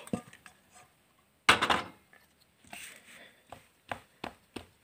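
Coconut barfi mixture is turned out onto a plate from a pan, giving scattered clanks and scrapes of cookware with one louder clattering burst and soft dull knocks afterward, close by.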